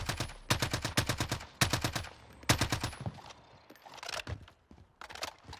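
EM2 rifle fire in Call of Duty: Warzone: several rapid bursts of crisp gunshots in quick clusters, loud and close, then scattered single shots and softer bursts toward the end.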